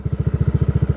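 Honda PCX 160 scooter with a racing ECU idling on its side stand, a steady rapid low-pitched putter with even regular pulses, close and alone.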